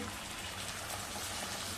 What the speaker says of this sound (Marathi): मिक्सरचं भांडं धुवून आपण पाणी घालूया